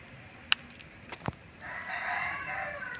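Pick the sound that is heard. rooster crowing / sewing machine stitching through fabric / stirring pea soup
rooster crowing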